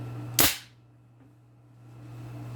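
Single loud shot from a homemade 6mm-barrel gun, a sharp crack close by that decays quickly into a quiet room hum.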